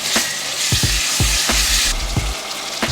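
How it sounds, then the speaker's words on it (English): Onions, sweet peppers, garlic and scotch bonnet frying in oil, a bright, loud, close sizzle with a rhythmic run of spatula scrapes and taps as the vegetables are tossed. "just give that a quick little toss in the oil and cook until they are tender"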